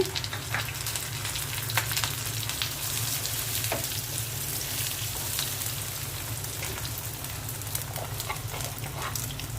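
Beaten egg hits a pan of frying onions and green chilies, giving a dense, steady sizzle that crackles continuously at close range with no talking.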